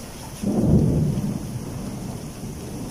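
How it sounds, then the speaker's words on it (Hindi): A low roll of thunder swells and fades over steady monsoon rain falling nearby. "मौसम बहुत अच्छा हो गया, बादल गरज रहे हैं"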